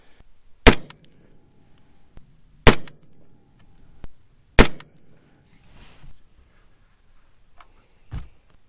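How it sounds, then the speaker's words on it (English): Suppressed AR-15 rifle shots through an OSS 7.62 Ti suppressor, fired as four sharp, loud reports spaced about two seconds apart, each followed by a short low rumble, with no talking. "We're gonna shoot it third and final group with the AR-15"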